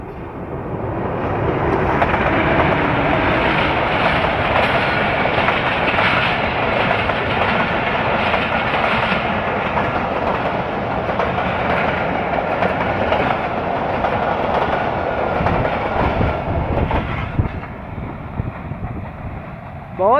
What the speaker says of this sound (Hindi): बहुत ही कमाल की स्पीड से पास हुई है 18 डाउन मिलत एक्सप्रेस।